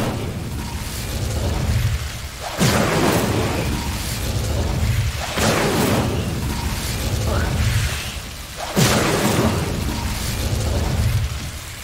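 Incendio fire spell blasts cast in Hogwarts Legacy, three loud whooshing bursts at roughly three-second intervals over a dense, continuous rumbling game background.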